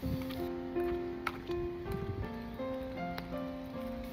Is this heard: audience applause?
no